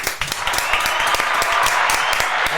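A roomful of people breaks into steady, dense applause, a loud wash of overlapping claps that keeps going without a pause for the whole stretch.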